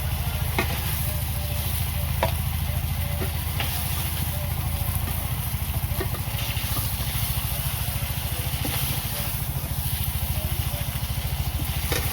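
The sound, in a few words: fish frying in oil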